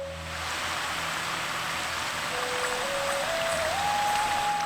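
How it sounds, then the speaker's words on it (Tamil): Murukku frying in moderately hot oil gives a steady, even crackling hiss that rises a little after the start and continues alone, with a thin tone gliding upward in the background. "எண்ணெய் மிதமான சூட்டோடையே இருந்தா முறுக்கு வெள்ளையா வரும்."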